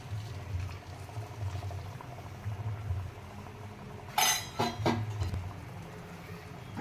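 Water is added to pav bhaji in a hot pan, giving a soft continuous simmering bubble with low sizzle, then a short cluster of sharp splashy clinks near the end.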